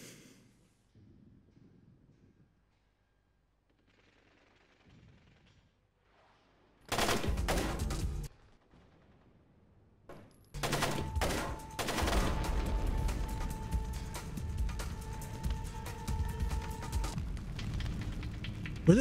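Enemy gunfire in the Splinter Cell video game sounds as loud bursts of rapid shots, first a short volley and then a long sustained barrage with a steady mechanical tone, after quiet ambient game sound.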